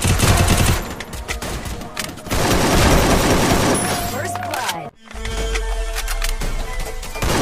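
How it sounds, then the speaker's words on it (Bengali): Pistol fire in a comedic Free Fire game clip comes as dense, loud bursts of rapid shots, with a brief drop-out before the shooting resumes. "চালা গুলি চালাও"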